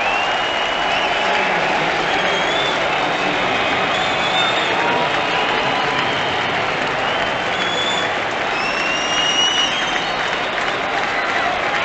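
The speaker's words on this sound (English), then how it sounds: "Listen to this crowd." A dense baseball stadium crowd at a Reds at Brewers game cheers and applauds steadily for the whole stretch, a broad, continuous roar with no break.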